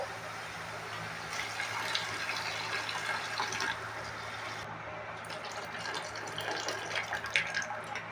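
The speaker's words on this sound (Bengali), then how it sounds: "এখন আমি জল দিয়ে দেবো।" Water poured into a hot pan for cooking Malabar spinach greens, a steady splashing stream running for several seconds, close and moderately loud, with no talking.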